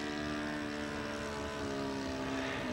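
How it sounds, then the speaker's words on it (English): RC model airplane engine held at full throttle during break-in, a steady, loud, high-pitched buzzing drone that holds constant throughout. "we're running the engine at full throttle for about 4 or 5 seconds, and then we're letting it cool down"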